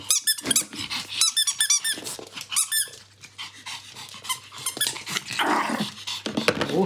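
A Pomeranian puppy growls and whines with high squeaky yelps, amid rustling and sniffing as it explores toys, the sounds close and agitated in bursts.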